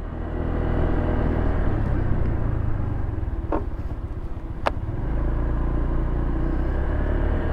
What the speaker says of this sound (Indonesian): Boleh kita coba di RPM rendah, kita gas.